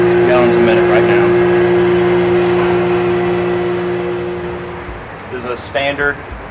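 A Tecalemit PRO-6000 DEF bulk transfer skid pump with a mounted generator runs at 60 gallons a minute through a 100-foot hose, giving a steady mechanical drone that fades after about five seconds; a voice briefly breaks in near the end.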